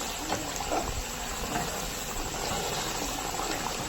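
Chicken curry spiced with ground cardamom and coriander bubbles steadily in a pot, a continuous dense burbling and hiss at close range with no talk over it.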